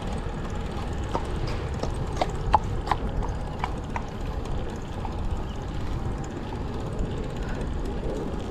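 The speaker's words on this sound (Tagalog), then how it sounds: "Yan o, pang karerang kabayo." Racehorse hooves clip-clopping steadily on pavement, a sharp, fairly close rhythmic series of knocks over a broad outdoor background hum.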